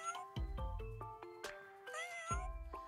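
A cat meows repeatedly and insistently, a rapid series of short, tonal cries close by, some rising into drawn-out wails.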